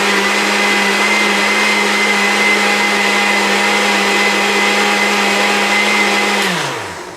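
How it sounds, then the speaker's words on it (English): A weak countertop blender whirs steadily while making a smoothie, a loud constant motor drone running for several seconds alone before winding down at the end. "this is not a strong blender"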